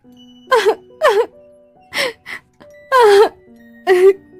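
A woman crying and wailing in a Hindi horror story, with several drawn-out, rising and falling moaning cries and sobs in short bursts separated by pauses, loud and close.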